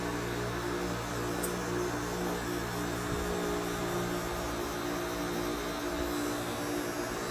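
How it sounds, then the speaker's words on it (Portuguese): An electric hair clipper runs continuously during a fade haircut, a steady buzzing hum held at an even level close by, with no talk. "Movimento em C, máquina leve."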